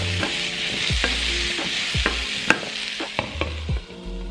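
Sweet cinnamon food sizzles steadily in a pan while a utensil stirs and scrapes it, with several distinct knocks and clinks against the pan.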